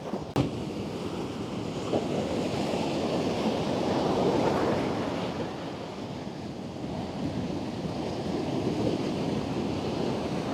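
Rough sea during a cyclone at Batticaloa, with waves surging and crashing in a constant, loud roar mixed with heavy wind buffeting the microphone, and no voices heard.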